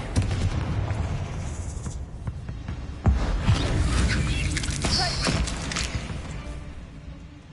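Confringo fire spells exploding in Hogwarts Legacy, a string of booming blasts and crackling impacts over a rumbling battle background, loud and close with no speech.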